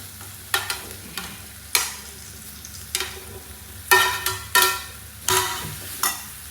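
Eggplant stir-fry sizzles in a pan while a spoon scrapes and stirs it in repeated sharp strokes, close and clear with no talk.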